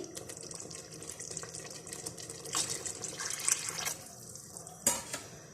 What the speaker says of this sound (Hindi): थोड़ा सा पानी ऐड करेंगे ग्रेवी के लिए।